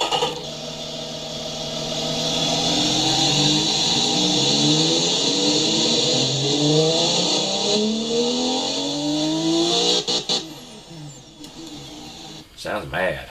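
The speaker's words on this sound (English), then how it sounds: "Let's listen to this inline 6." An inline-six engine in the car game Automation, set with a 7,400 RPM rev limiter and straight-through exhaust, revs up repeatedly in rising sweeps, loud and continuous, before cutting off near the end.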